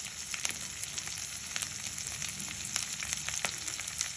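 Ingredients for a drumstick-leaf, moong and chana dal sizzle steadily in a hot pan, with crisp popping crackles scattered over a constant frying hiss and no voices.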